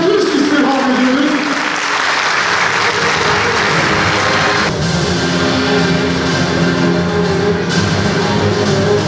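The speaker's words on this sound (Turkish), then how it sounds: "Kocaman bir alkış istirham ediyoruz." Loud, continuous audience applause at a short film festival awards ceremony, filling the hall with music playing over the clapping.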